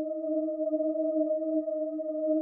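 A synth pad from Analog Lab holds one sustained chord, smooth and steady, for a slow melodic R&B beat. The tone is moderate in volume and unchanging, heard alone without any voices.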